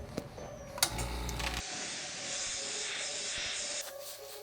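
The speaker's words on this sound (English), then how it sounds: "we're gonna grab our compressor and blow off any surface dust on the shoe." An air compressor blows a loud, steady hiss of air over a Jordan 11 sneaker to clear surface dust, starting after a few short clicks and running for about two seconds.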